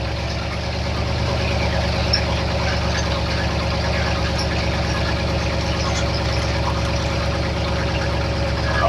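Ford F100 engine fitted with Holley Sniper fuel injection idling after a cold start, a loud, steady close rumble with an even low throb and no talking.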